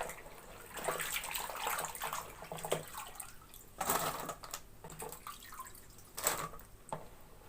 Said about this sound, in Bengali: এখন আমি ভালো করে ধুয়ে নিব